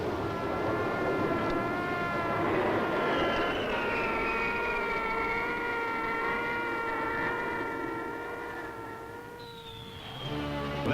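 Air Force One, the presidential jet, passing overhead in a flyover, a loud sustained whining engine roar with tonal harmonics that shifts in pitch and fades slightly toward the end.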